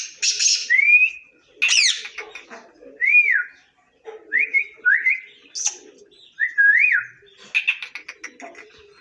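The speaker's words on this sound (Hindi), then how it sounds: "इसको सीटी मारूँगा तो इंशाल्लाह ये सीटी पर जवाब देगी" A pet bird, one of a breeding pair kept in an aviary with a clay-pot nest, answers a person's whistles with bright rising and falling whistled calls and chirps, several short phrases trading back and forth close by.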